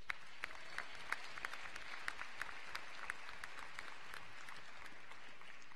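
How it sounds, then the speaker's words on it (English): Scattered audience applause at a senior awards night, a sparse patter of separate claps from a modest crowd, fairly quiet and steady with no voices over it. "rise and give them a round of applause"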